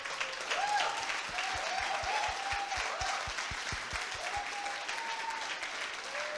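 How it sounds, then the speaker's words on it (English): An audience applauds at a coding bootcamp demo day, with dense, even clapping throughout and a few voices faintly mixed in. "they deserve a huge round of applause for all that effort"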